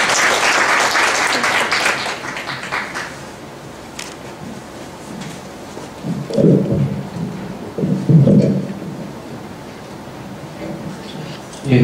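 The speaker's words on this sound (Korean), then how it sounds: "박수로 맞이해주시죠." An audience at a 2014 SFC alumni gathering applauds to welcome a speaker, with dense, steady clapping for the first few seconds that thins out, followed by quieter low murmurs and shuffling.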